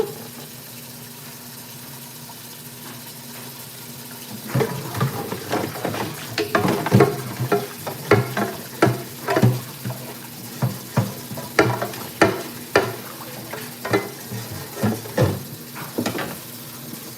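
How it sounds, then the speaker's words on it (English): Fish fries in a pan for a fish sandwich. A low sizzle starts and builds into a run of rhythmic crackling bursts and stirring noises, close and fairly loud, with no talk. "I'm making me a fish sandwich, so bear with me."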